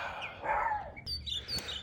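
Birds chirp outdoors on a sunny day, bright short calls near to mid-distance over a light breeze, with a few quick high tweets toward the end.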